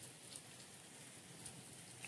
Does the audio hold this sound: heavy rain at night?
yes